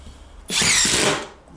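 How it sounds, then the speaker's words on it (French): A power screwdriver drives a screw into a Fermacell gypsum fibre floor board, giving one loud, steady high-pitched whir for about three quarters of a second that then trails off. "il ne faut pas visser trop près du bord"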